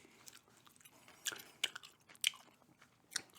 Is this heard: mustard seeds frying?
no